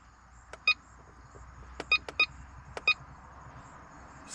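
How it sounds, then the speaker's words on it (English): A battery charger for a ProBoat UL19 RC boat lets out several short, high electronic beeps, one near the start and a quick cluster later, clear over a quiet background with no talking. "That beep."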